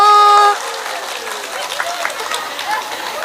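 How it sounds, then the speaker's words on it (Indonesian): Audience applause at a large Islamic sermon gathering (pengajian) in Magelang: a brief tonal voice or sound opens, then a steady, dense wash of clapping from many hands continues without a break. "Tepuk tangan"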